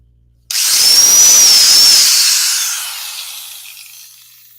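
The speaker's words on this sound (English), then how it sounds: "So I have one pilot hole to drill" A power drill whirs loudly up close, drilling a pilot hole in wood with a high whine for a couple of seconds before spinning down and fading.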